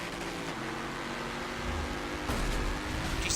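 Race car engine in Forza Motorsport 7 during a two-lap Sport Touring Series race, a steady droning hum with a faint rise in intensity midway, loud and continuous with no talk.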